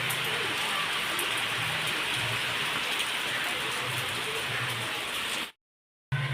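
Heavy rain pours steadily outdoors as a loud, dense, continuous hiss, holding unbroken for several seconds before cutting off abruptly near the end.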